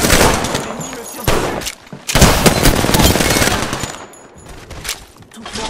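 Enemy gunfire in Apex Legends: rapid automatic bursts rattle loudly and close, with dense volleys, short pauses and sharp impacts, while a voice speaks over the shooting.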